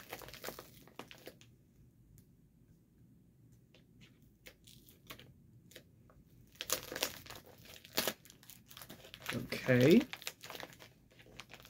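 Wrapping on a package crinkles and tears in scattered bursts that grow louder toward the end, with a person speaking briefly between the rustles.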